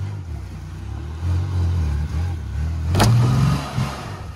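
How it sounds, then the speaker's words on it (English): A Chevy Impala does a burnout with a low, steady engine roar that swells and surges, plus a brief sharp squeal-like burst near the end, with nearby voices faint underneath. "let's do a burnout before this thing goes flat"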